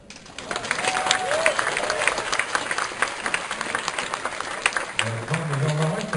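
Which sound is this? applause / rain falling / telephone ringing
applause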